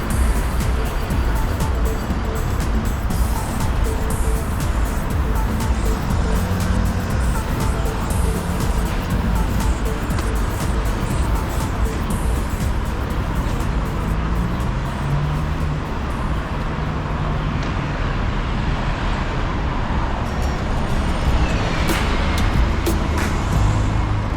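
Continuous road traffic fills a Madrid street in winter: a dense, loud roar of passing cars, buses and trucks, with engines and tyre noise blending into a steady wash and no pauses.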